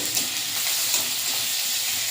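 Sliced onions frying in oil with panch phoron spices in a home kitchen pan, a steady loud sizzle and hiss with occasional stirring scrapes, no talking.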